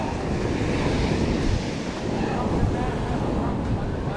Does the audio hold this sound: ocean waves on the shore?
yes